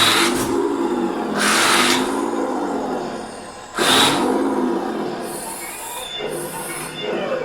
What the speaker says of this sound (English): this is a modern turbo diesel engine sound